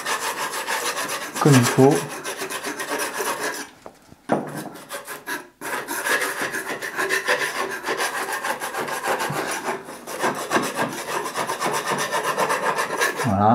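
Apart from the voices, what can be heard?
scraping blistered paint off wood with a painter's knife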